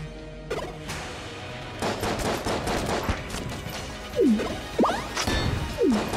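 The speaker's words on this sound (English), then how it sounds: "What is this gun? A quad laser." Quad laser gun firing in Enter the Gungeon, a run of loud crashing blasts and impacts amid busy game noise, with swooping pitched effects in the second half.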